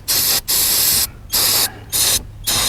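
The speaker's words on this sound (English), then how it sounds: "brake clean, ether, whatever you want to use. Spray down real good." Brake cleaner sprayed on a part from a 2010 Honda Pilot transmission during a transmission service: four loud, hissing aerosol bursts, each about half a second long, separated by short pauses.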